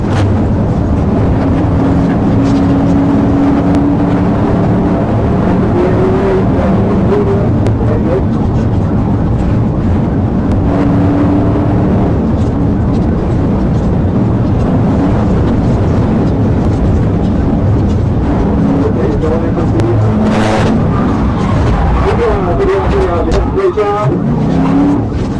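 A Kia fleeing police at high speed on a highway, its engine and road noise roaring steadily and loud throughout, with the pitch shifting as it races along, over a continuous din of wind and traffic.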